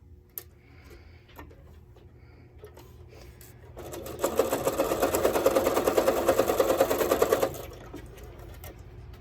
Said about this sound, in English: we're just going to sew about 1/4 inch right here along this line on each